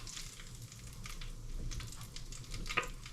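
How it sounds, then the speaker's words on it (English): Chicken wings for KFC-style hot wings sizzle softly in hot oil, a steady crackling hiss with a few small pops, faint and without talk. "It's a bit of a sizzle, can you hear that?"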